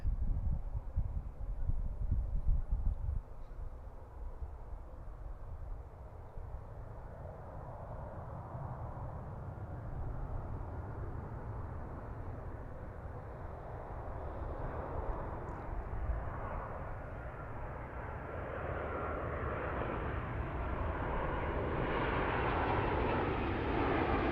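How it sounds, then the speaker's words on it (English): A Delta airliner lands on runway 28 at BWI, a broad distant jet roar that swells gradually and steadily over about twenty seconds, heard alone without talk. "This is our first Delta and our first non-Southwest arrival of the day on this runway"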